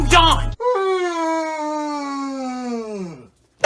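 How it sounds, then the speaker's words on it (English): A loud, drawn-out human yawn, rising sharply and then sliding slowly downward for nearly three seconds, close and clear, with a burst of speech just before it. "That loud ass yawn."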